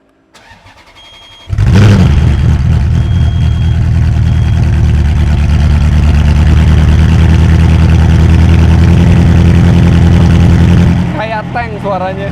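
A Ferrari 430 engine fires up loudly, settles into a steady, throaty idle that runs for about nine seconds, and then drops away as a voice speaks briefly near the end.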